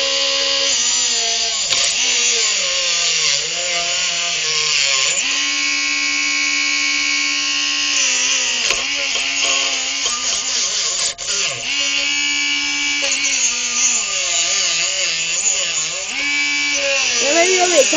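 A Dremel rotary tool grinds into the shackle of an extra heavy duty commercial padlock, a loud, sustained high whine that wavers in pitch as the cutting wheel bites and eases, running almost without pause.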